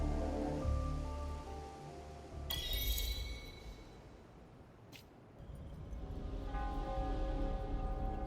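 Steady rain falls in the Wuthering Waves video game. It is a broad wash of patter that swells and fades across the scene, with a brief brighter splash or clink near the middle and a faint tonal music-like layer beneath.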